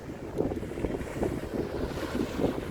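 Gusty wind rumbles and buffets the microphone outdoors on a sunny day on the Gold Coast, Queensland, in a steady, rough roar, with no one speaking.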